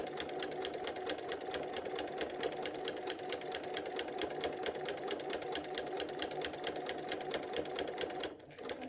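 A sewing machine stitching a quilted placemat runs in a steady, fast mechanical whir of rapid needle strokes, near and continuous, stopping abruptly just before the end.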